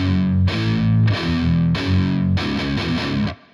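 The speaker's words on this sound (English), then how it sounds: "you're playing the same notes, but you're palm muting again," Palm-muted, distorted electric guitar plays a verse riff, with chunky, choppy notes struck in short bursts roughly every half second, loud and close, with no voice over it.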